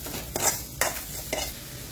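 Three short scraping swishes of a utensil stirring turmeric, sambar powder and salt through a pan of Chettinad broad bean curry, spaced about half a second apart, with a faint sizzle underneath.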